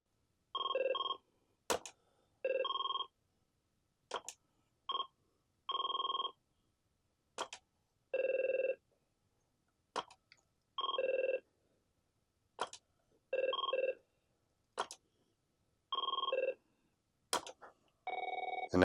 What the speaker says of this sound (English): if you press the speaker button, you can cycle through your ringtones.